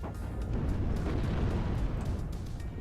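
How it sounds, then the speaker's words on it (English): Missiles striking a BMP armored vehicle in WARNO, a dense, continuous rumble of explosions and crackling impacts, loud and sustained throughout. "Good use of the missiles on the BMP there."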